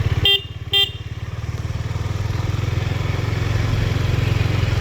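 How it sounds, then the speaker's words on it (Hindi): Two short, loud honks from a KTM Duke 250 motorcycle horn sound in quick succession near the start, over the bike's steady idling engine rumble that continues alone afterward. "हॉर्न मार दे इसी हाथ पे, देख"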